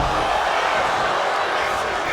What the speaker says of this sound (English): listen to this crowd in the Roy Wilkins Auditorium on their feet for this intense matchup on Rush Hour